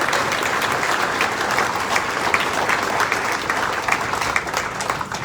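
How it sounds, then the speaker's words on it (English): An audience at an evening event with Senator Jacinta Nampijinpa Price in Toowoomba applauds steadily, a full dense wash of clapping hands sustained evenly throughout with no speech over it. "Please give him a round of applause also."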